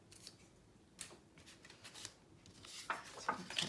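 Scissors snipping paper for a boho Christmas mini album, several quiet close cuts and rustles that grow a little busier toward the end.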